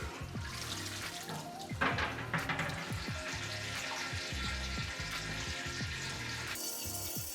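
Cauliflower fritters deep-frying in clean hot oil for a restaurant batch serving 25, a steady loud crackling sizzle with bursts of bubbling and spattering throughout, plus clattering utensil knocks low underneath.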